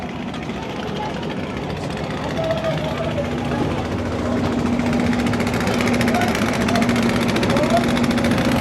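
A passenger launch on the Padma river, under way from Kazirhat toward Pabna, runs its engine with a steady low drone and hum that continues throughout, with passengers talking in the background.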